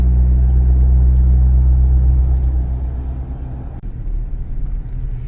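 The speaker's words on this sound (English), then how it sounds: "As we try to get off the road, as the traffic is becoming more and more." Road traffic heard from inside a moving car: a steady low engine and road rumble, loud at first and then easing, with a faint thump near the end.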